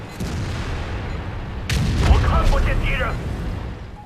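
A WZ-111 tank in World of Tanks fires its cannon once, a single heavy boom over a constant low battle rumble.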